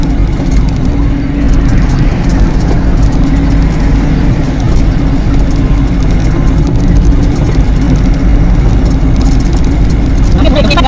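A vehicle rolls past close by at a state border checkpoint on the Madhya Pradesh line, its loud engine rumble droning steadily while someone talks over it.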